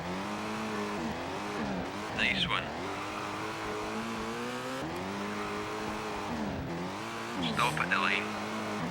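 A Subaru Impreza rally car in Colin McRae Rally on the PlayStation hums with a steady engine note that rises and falls with gear changes, accompanied by brief tire squeals and a voice speaking over it.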